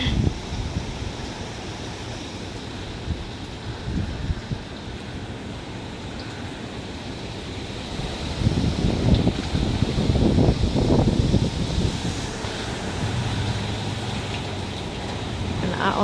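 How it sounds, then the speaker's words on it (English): Strong gusty wind during Hurricane Ian roars steadily around the microphone, swelling into louder buffeting gusts midway, with occasional voices underneath. "let me just say, it is windy."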